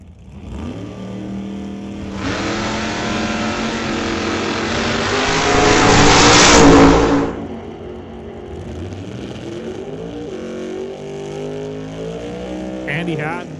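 A 1969 Camaro and a 1991 Mustang launch in a drag race, engines rising into a loud, strained roar that peaks and then cuts off, followed by lower idling and revving as a commentator talks throughout.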